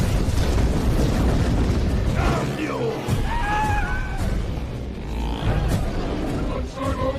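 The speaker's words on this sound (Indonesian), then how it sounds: "para begal pun langsung meledakkan bomnya yang membuat jalan menjadi terhalang" A bomb blast in a Mad Max chase scene, a heavy low rumbling roar of explosion sustained under a film soundtrack with shouting voices and rising tonal cries layered over the din.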